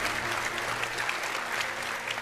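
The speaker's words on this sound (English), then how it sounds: "One more round of applause for the people who make this possible." Audience applause at the Red Bull Wololo Age of Empires event at the Odeon in London, a steady, even clapping from a large crowd that continues throughout.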